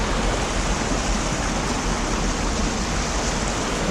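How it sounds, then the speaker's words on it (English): A forest waterfall rushes in a steady, loud, broadband roar on a woodland walk near abandoned cabins, with no voices. "just watch this beautiful waterfall"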